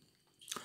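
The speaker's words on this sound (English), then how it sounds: "Yeah, chewing the pork even more." Someone chews a chunky piece of pork from a Slimming World Mexican Bean Fiesta ready meal, heard as one brief, soft, close bite with a squishy crunch.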